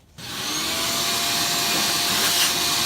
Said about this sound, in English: You want to get all the big particles off first with the vacuum.